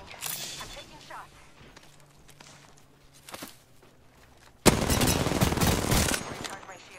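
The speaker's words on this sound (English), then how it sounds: "They spotted me. I'm taking shots." Incoming gunfire in Apex Legends: quieter scattered shots and movement first, then a sudden loud burst of rapid automatic fire lasting over a second before dropping away.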